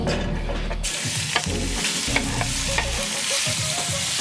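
Sliced beef for Philly cheese steaks hits a hot pan and sizzles loudly, with stirring scrapes and clatters over a steady frying hiss.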